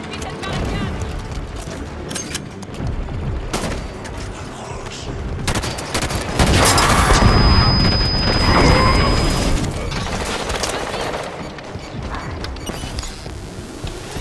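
Gunfire in the Halo 5 Guardians video game, a dense continuous barrage of shots and booms mixed with mechanical game effects, loud and sustained throughout.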